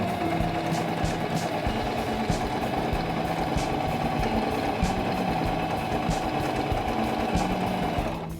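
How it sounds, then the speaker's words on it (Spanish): A Singer mechanical sewing machine stitches a line through fabric with a fast, steady, even mechanical whir and clatter, close and continuous, with no talking. "Baja el prensatelas y comienza a coser toda la línea"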